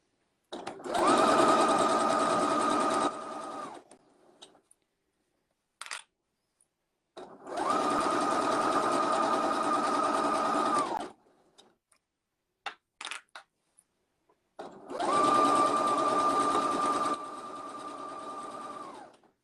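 A sewing machine stitches a seam in three loud, steady runs of about three seconds each, with short pauses and small clicks between them, working on a cuddle-kit project. No one talks.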